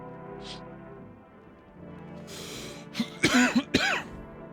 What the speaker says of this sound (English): it's making me cough more.